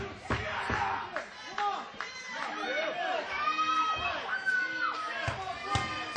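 Wrestling fans chatter, shout and cheer in a small arena, a lively close crowd with individual yells and claps rising and falling throughout.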